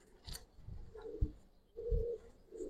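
Giribaz pigeons in a loft give a few low, throaty coos in separate bursts, close by, with soft rustling between calls.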